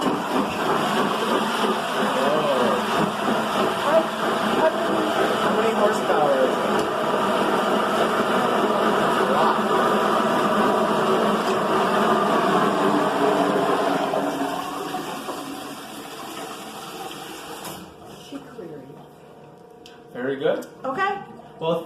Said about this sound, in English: turn the water on here and the disposal